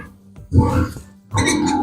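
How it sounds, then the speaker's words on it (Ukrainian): Sows and young piglets on a village pig farm give low grunts and oinks in two short bursts close by, with a quiet pause between them. "ще хотів показати свиноматки на літо"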